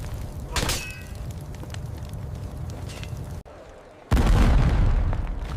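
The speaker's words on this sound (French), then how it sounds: "L'artillerie française bombarde la structure pour briser la défense." Artillery explosions in a depiction of the 1429 siege of Orléans: a loud rumbling boom, a sustained roar, a brief near-silent gap, then another heavy blast with a long low rumble.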